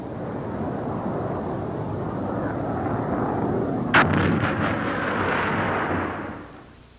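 A Roland radar-guided missile strikes an incoming fighter plane: a steady roar of flight is cut by a sharp blast, followed by a few rumbling echoes that fade out.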